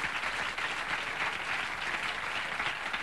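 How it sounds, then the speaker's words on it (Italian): Studio audience at a comedy show breaking into sustained applause, a dense even wash of clapping filling the room for several seconds. "Non si faccia intimidire degli applausi."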